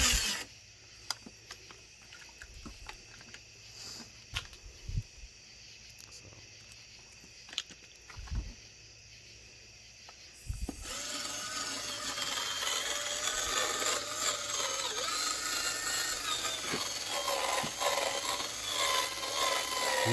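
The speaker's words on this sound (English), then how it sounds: "You can see she's got everything masked off there to keep the sanding pads from sanding into the paint." Sanding pads working over the masked-off body of a 2004 Dodge Ram 1500, a steady loud rasping abrasion that starts around midway and continues unbroken, after a quieter stretch of scattered knocks and tool handling.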